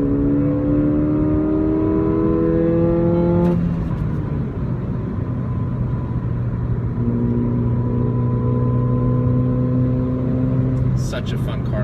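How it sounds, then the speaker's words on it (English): 2016 Ford Fiesta ST engine while driving, heard from inside the cabin as a steady drone that rises in pitch, drops at a gear change, then climbs again under continuous road noise. "Such a fun car to drive."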